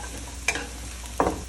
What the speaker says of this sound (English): Fry the mushroom first until you can smell it.